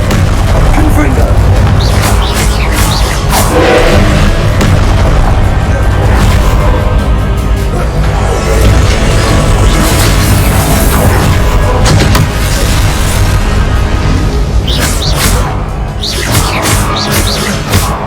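Explosive Confringo blasting spells from Hogwarts Legacy boom repeatedly amid other combat spell effects, a dense, loud, continuous barrage of bursts and crashes with bright spikes near the start and end.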